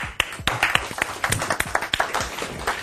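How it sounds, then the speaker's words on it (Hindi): A studio audience at an Odia-language television talk show claps to welcome a guest actress onto the hot seat: loud, close, uneven individual claps in a lively burst, with no talking. "जोरदार ताली"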